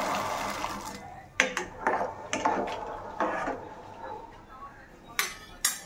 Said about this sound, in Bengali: আমি কড়াইশুঁটিগুলো দিয়ে দেবো।